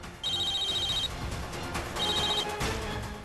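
A telephone rings in a Hindi TV drama scene, two bursts of electronic trilling in a short clip over background room sound, with no talk during the rings.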